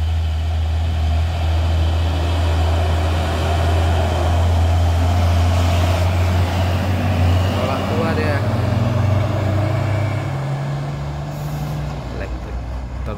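A passing truck's exhaust brake on a Sumatran road gives a loud, steady, low droning roar that fades slightly toward the end, with people talking over it.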